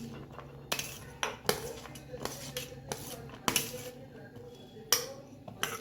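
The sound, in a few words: mixing chopped onion, coriander, chilli, spinach and tomato in a bowl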